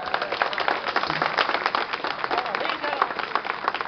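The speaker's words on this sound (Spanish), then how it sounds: "creo que se merece un aplauso grande" Dense, steady applause from a crowd, with scattered cheers and voices mixed in throughout.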